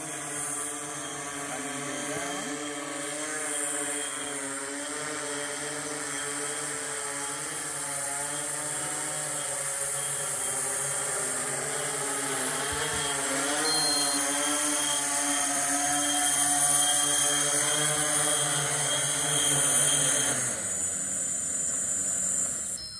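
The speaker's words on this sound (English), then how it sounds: "That's a DJI spreading wings S1000 octocopter heavy lift drone." A DJI Spreading Wings S1000 heavy-lift octocopter drone hums steadily and close as it flies and comes down to land, its rotor drone holding level before dropping away near the end.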